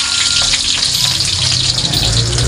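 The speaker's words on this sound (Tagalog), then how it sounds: "Igisa natin ang sibuyas." Onions sautéing in a small amount of cooking oil in a pan, a steady loud sizzle and crackle that fills the whole stretch without pause, with no voices over it.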